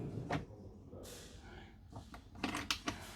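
A deep drawer in a Concorde Carver 920G luxury motorhome slides shut with a soft rushing glide, followed by a few sharp clicks and clunks as it latches, close by in a quiet interior.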